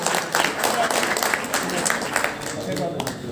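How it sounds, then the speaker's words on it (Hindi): An audience at the opening ceremony of a multipurpose hall bursts into loud, sustained clapping, a dense crowd roar that fills the room and holds steady throughout. "जोरदार तालियां।"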